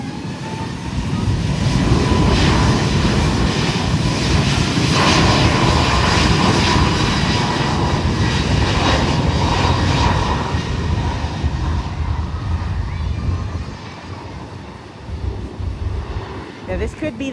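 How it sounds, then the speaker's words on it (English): An Airbus A321LR airliner roars on takeoff at San Juan airport, a loud broad engine rumble swelling in and holding steady before easing off, heard from a spotting position at some distance. "Now this could be the A321 LR taking off."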